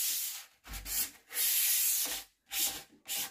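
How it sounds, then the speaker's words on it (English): A sanding sponge makes light rubbing strokes across a painted wooden dresser drawer, in several short bursts with brief pauses between them, close up and with no talk. "I'm going to sand this with my Dixie Belle sanding sponge."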